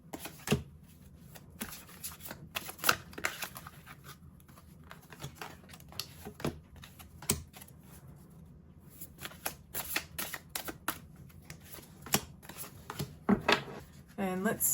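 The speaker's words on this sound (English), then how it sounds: "I'm going to pull cards from the Psychic Tarot." Psychic Tarot cards shuffled by hand, soft quick riffles and card taps in scattered bursts, close and quiet, with a voice talking in between.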